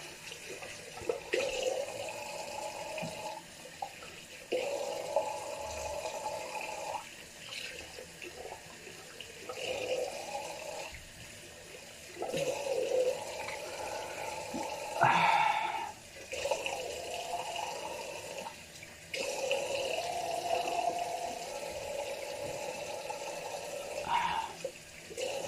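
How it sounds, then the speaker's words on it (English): Tap water runs into a sink while someone rinses off after a shave. The splashing stream comes in several stretches broken by brief pauses, and it sounds close but fairly soft. "Let's rinse off and see how we did."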